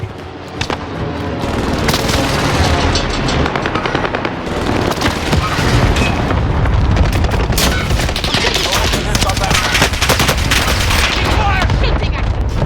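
In Call of Duty Warzone on Rebirth Island, an airstrike and gunfire make a dense, loud barrage of rapid shots and heavy booming explosions that pile over one another with almost no pause.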